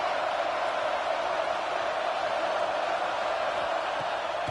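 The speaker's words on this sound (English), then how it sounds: "Listen to this crowd just shaking the girders of this place" Steady, dense stadium crowd roar at a college football video game matchup of Notre Dame at Arkansas, a continuous loud wash of noise with no distinct voices standing out.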